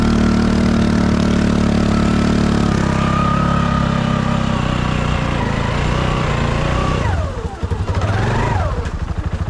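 A Honda 6x6 ATV engine labors through a deep mud hole, a loud, close, rough drone that holds steady and then surges and dips in pitch as the machine strains, with no talking.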